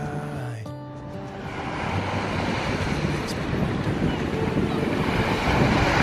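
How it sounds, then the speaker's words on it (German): Strong wind buffets the microphone on the car beach at Løkken, Denmark, a steady roaring rush with surf underneath that builds louder over several seconds, close and continuous without talk. "Der Wind ist wieder zurück."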